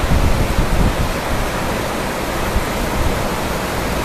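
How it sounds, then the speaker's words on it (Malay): Heavy rain pours down in a steady, dense broadband hiss. The downpour is even and loud throughout, with no voices and no breaks. "Hujan lebat."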